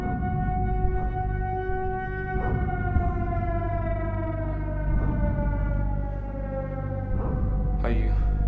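Air raid sirens sound in a wartime Blitz setting, a long sustained wailing tone that holds steady and loud throughout, with brief voices and noises breaking in over it.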